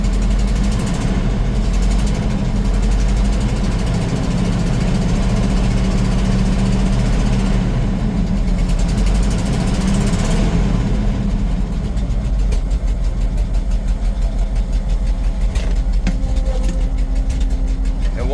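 A dump truck's engine idles roughly with a dead miss in one cylinder, and its belts squeak. The loud, steady low rumble runs through the whole stretch, close up and without talk.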